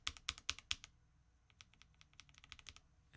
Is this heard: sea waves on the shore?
no